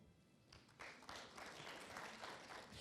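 Audience at a youth forum session breaks into clapping after a quiet start, scattered claps building into fuller, sustained applause that stays moderately loud to the end.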